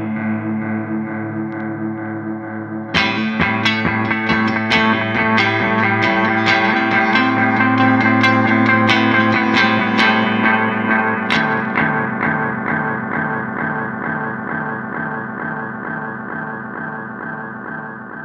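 Electric guitar runs through a DM-2 analog delay pedal in custom mode, picked notes and chords with prominent repeating echoes that build and smear together, then slowly decay toward the end.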